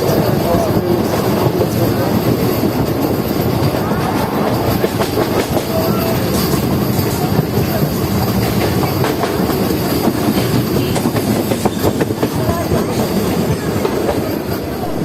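A Rampurhat–Andal MEMU passenger train runs on its rails toward Bhimtara station, with a loud, continuous onboard rumble and a rhythmic clickety-clack of wheels over rail joints throughout.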